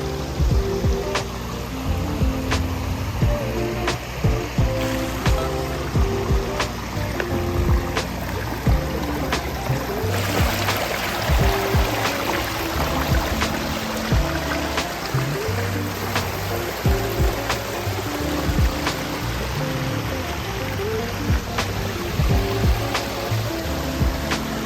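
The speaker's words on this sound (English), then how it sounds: "So this is just an earthen pond that you added a waterfalls on." Man-made waterfall pouring steadily into an earthen pond on a 50-acre property, a loud continuous rushing splash of water that fills the whole stretch without pause.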